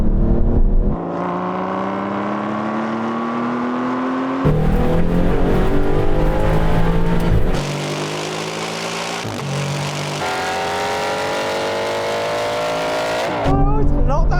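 Engines roar as Aston Martin sports cars accelerate hard in a drag race, pitch climbing steadily through several gear changes, loud and close.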